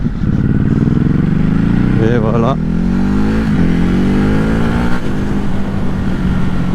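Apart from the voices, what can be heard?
Ducati Hypermotard RVE 2021 motorcycle engine revving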